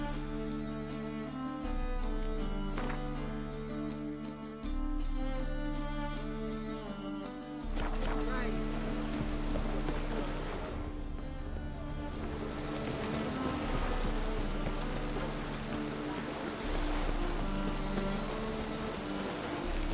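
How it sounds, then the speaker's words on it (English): Steady rain in The Witcher 3 on Nintendo Switch hisses over layered game music with sustained tones, the patter continuing evenly throughout and rising slightly in the second half. "And it's raining again."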